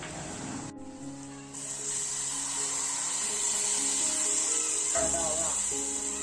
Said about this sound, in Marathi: आता पाण्यात भिजवलेली सुकट टाकायची